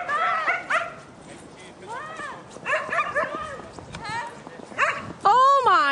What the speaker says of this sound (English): You still barking at everybody?